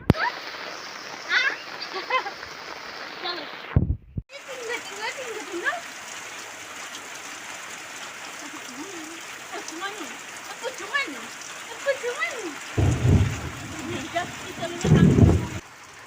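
Heavy rain pours steadily over a village home, a broad wash of patter and splashing with bursts of louder drumming near the end, and voices talk faintly through it.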